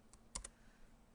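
Typing on a computer keyboard comes through as a few quiet, sharp key clicks, with a quick pair in the middle, over a faint room hum.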